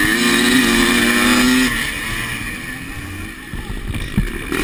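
Scramble dirt bikes rev hard together at a race start, a loud droning engine chorus that climbs in pitch and then drops away, with a brief voice in the mix.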